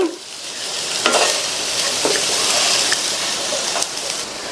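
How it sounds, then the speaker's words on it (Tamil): Potatoes fry crisp in hot oil, a loud, steady, close sizzle with occasional clinks and scrapes of a spoon in the pan. "உருளைக்கிழங்கு நல்லா மொறுமொறுன்னு ஃப்ரை ஆயிடுச்சு."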